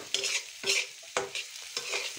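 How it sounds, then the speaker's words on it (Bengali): Dal is stirred in a pan in a village home kitchen, with several soft scraping strokes coming at an uneven rhythm, close and quiet, with no talking. "তো এই যে দেখুন নাড়াচাড়া করতেছি"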